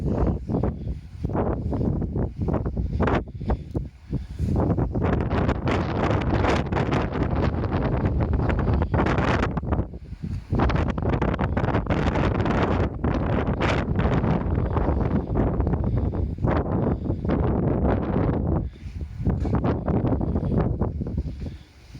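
Strong wind blows outdoors, buffeting the microphone in loud, continuous roaring gusts that drop away only briefly, with no talk.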